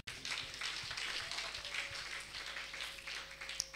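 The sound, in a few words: church congregation clapping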